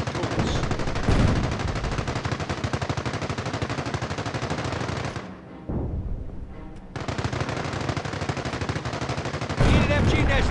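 Dense machine-gun and rifle fire crackles from the Company of Heroes Normandy invasion game on mobile, loud rapid bursts that keep going, then pause for a moment of near quiet before picking up again, with voices shouting underneath.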